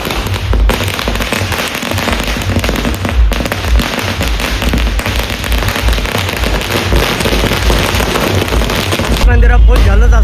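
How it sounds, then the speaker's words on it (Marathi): Firecrackers and fireworks go off at a village temple festival for a Gaondevi palanquin procession, a loud, dense, continuous crackle of rapid bursts with heavy booms toward the end. "फटाक्यांची आतिषबाजी आता चालू झालेली आहे"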